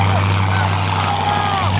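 Widebody Chevrolet Corvette C8 V8 engine running with its exhaust valves closed, a loud, steady muffled drone with a low tonal hum, close up for about two seconds.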